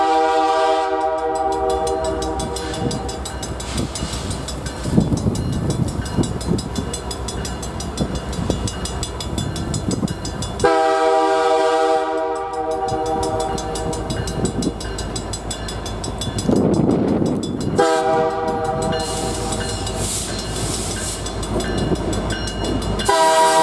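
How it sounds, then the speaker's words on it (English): CP freight train G13 hauling fuel down the Searsport branch in Maine rolls past loud and close, with long tonal horn blasts over steady wheel and engine rumble for the whole stretch. "a chase of CP train G13 coming down the Searsport branch with fuel for the oil terminals"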